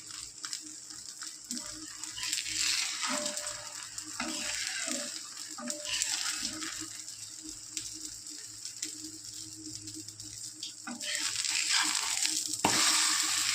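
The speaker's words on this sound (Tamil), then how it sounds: "கேரட் வந்து ரொம்ப வதங்கக்கூடாது சும்மா ஒரு வதக்கு வதக்கிட்டு" Carrots sautéing in a pan for wheat dosa, a steady dry sizzle with scraping stir strokes running throughout, growing brighter and louder near the end, no talking.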